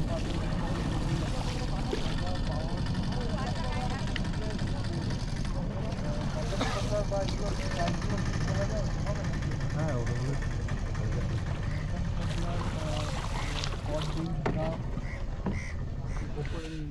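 A boat engine drones steadily on the water at Mangalajodi wetland during a bird photography outing, a continuous low rumble running throughout with birds calling and faint voices over it.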